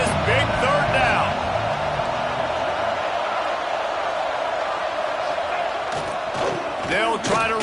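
A stadium crowd at a Michigan at Nebraska college football game roars steadily through a big third down, sustained loud cheering with a commentator talking over it.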